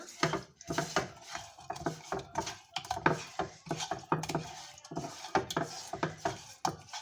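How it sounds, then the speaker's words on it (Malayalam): A utensil stirs and scrapes ingredients with vinegar in a bowl, giving repeated rhythmic clinks and scrapes, close and fairly loud, with no talking. "ഇനി അത് നല്ലോണം ഒന്ന് മിക്സ് ചെയ്ത് ഇടുക."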